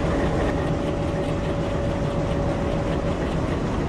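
A diesel locomotive in Train Simulator Indian Railways reverses with a loud, continuous engine rumble and a steady tonal hum, wheels rolling under it without a pause.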